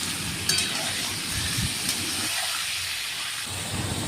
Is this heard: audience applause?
no